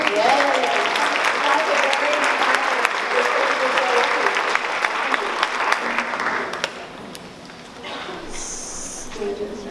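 Audience clapping at an arts education keynote, a dense steady burst of applause for several seconds that tapers off near the end, with a high tonal sound appearing as it fades.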